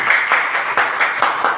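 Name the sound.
audience clapping hands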